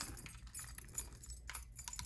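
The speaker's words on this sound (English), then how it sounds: "I got like 2 keys on there" Keys on a keyring jangle in a handful of short metallic bursts, close and moderately loud, kept in a Florentine satchel alongside a headphone case.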